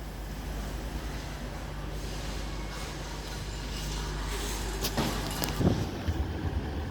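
A biogas bus engine drones by with low steady rumble in Nottingham, swelling and fading at a moderate distance over wind and traffic noise, with brief squeaks near the end.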